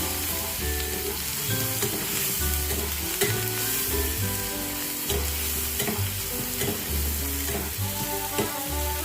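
Onion paste with ginger, garlic and chili paste fries in a pan while it is stirred, giving a continuous sizzle with rhythmic spoon scrapes and a repeating background tune.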